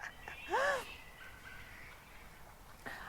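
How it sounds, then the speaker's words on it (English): Outdoor birds call noisily, with one loud, harsh cawing burst near the start and fainter calls drifting in afterward over quiet background air. "these birds are so noisy"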